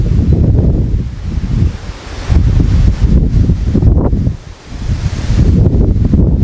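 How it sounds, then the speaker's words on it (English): Gusting wind rushes through trees and shrubbery near wind turbines, swelling loudly and fading in irregular waves, with a noticeable dip near the middle; the roar is close and partly buffets the microphone, with no voices. "the sound of the trees and the shrubbery blowing in the wind"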